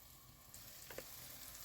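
Curd cheese pancakes coated in flour frying in a pan, a steady close sizzle with a couple of faint soft clicks partway through, no voices.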